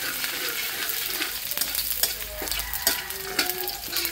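Garlic sizzles in hot oil in a pan while being stirred for squid adobo, with a steady close frying hiss and scraping stir strokes throughout.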